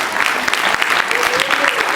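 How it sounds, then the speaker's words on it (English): A conference audience applauds a panelist being introduced, a full, steady roar of many hands clapping close and loud, with faint voices woven underneath. "Let's give her a big round of applause"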